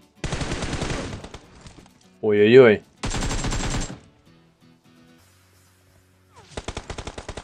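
Bursts of rapid automatic gunfire in PUBG Mobile, two long fast volleys separated by a short exclaiming voice, then a pause and another burst of shots at the end.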